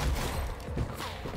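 Rapid, continuous gunfire from a DAC SMG in Fortnite, a loud burst of submachine-gun shots with dense, rattling repetition filling the whole moment.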